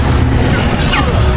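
An Incendio fire spell in Hogwarts Legacy bursts out as a loud, dense whoosh with crackling flame and a brief flare partway through.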